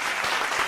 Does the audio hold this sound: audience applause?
yes